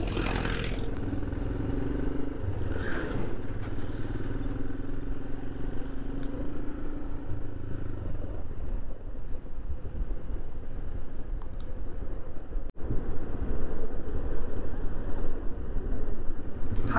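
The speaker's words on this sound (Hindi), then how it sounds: "ट्रैक्टर आ रहा है, ट्रैक्टर" A tractor drives past with a steady, loud engine rumble and rattle that holds through the whole stretch, without voices on top.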